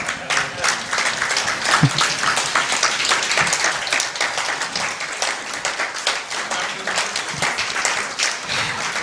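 An audience claps steadily and loudly for a departing speaker, LSK President Faith Odhiambo, after a moving speech, the dense applause running unbroken throughout with no talk over it.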